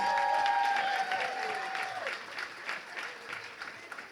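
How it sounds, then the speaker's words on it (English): Applause from a luncheon gala audience for the co-host and dance partner, a dense steady patter that starts loud and slowly thins, with tonal background music fading out early. "can you please give her another loud round of applause, please?"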